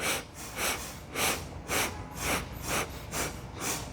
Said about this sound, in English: And then begin 8 sniffs in.